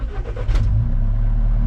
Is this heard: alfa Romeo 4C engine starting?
yes